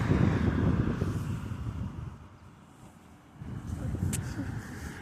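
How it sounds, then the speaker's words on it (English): Strong wind buffeting the microphone outdoors, a rough low rumble that rises and falls in gusts, easing in the middle before picking up again, with a voice speaking over it. "Well, the wind is getting crazy."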